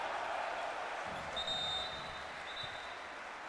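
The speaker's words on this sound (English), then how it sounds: "And that's got the crowd going." A basketball arena crowd reacting after a foul in a Juventus Utena v Iberostar Tenerife Champions League game, a broad steady roar with scattered claps and a few whistle tones.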